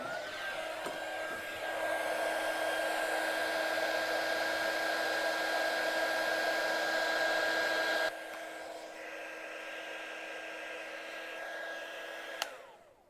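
A heat gun blows a steady, loud hot-air roar while shrinking heat shrink tubing onto a LiFePO4 battery cable, running continuously for several seconds before dropping in level and cutting off with a click.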